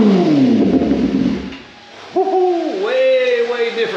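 A 2023 Kawasaki ZX-10R sport motorcycle with an aftermarket exhaust, on a dyno, revs up with a deep, rough roar, drops back, then climbs again into a steady, loud, throaty drone.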